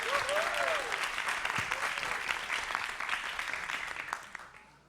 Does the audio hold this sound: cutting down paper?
no